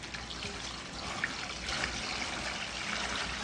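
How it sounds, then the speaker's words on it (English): Water from a large jug pours into a container for wet-brining ribs, a steady close trickle and splash that runs on without pause and with no talk over it. "I'm going to put that water in first."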